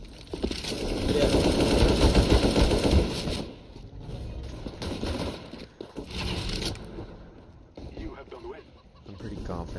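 An AK rifle fires in the video game CSGO in a dense, loud, rapid burst of automatic fire lasting about three seconds, followed by quieter scattered shots and game sounds while a player talks.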